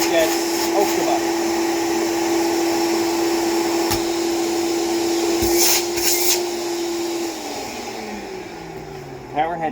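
A Hoover Celebrity II Elite canister vacuum cleaner runs with its power head in a loud, steady whine, then winds down near the end as the motor slows.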